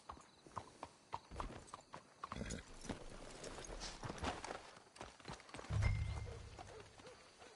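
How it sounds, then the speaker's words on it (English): Hooves clip-clop at a steady walking pace in Red Dead Redemption 2, fairly close, with creaks and rustling, followed by a low horse snort near the end. "Let's hitch the horses up ahead."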